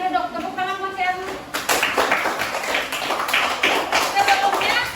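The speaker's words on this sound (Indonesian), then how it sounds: "Tepuk tangan Mas Erna." A classroom group claps for a student after a teacher's prompt, a loose burst of hand claps following a stretch of speech, with voices still audible under and around the clapping.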